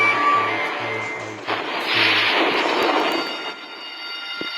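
A warship launches torpedoes in the naval battle game Naval Creed, with low thudding bursts and whooshing mechanical launch noise over a rumbling engine bed, followed by several sharper clanks, fairly loud with no voices.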